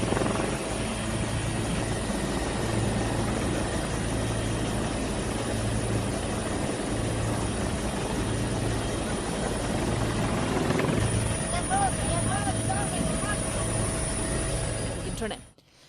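A helicopter delivering food and supplies over landslide-hit areas, its steady rotor and engine drone loud and continuous, with a faint thin whine above it and a fade at the end.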